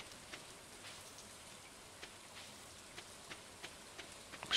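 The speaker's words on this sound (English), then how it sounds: "Always been curious as to what that weird woo-woo noise is supposed to be when it's raining." Rain in a farming video game: a faint, steady soft hiss of rainfall with scattered light drop ticks throughout, no voices.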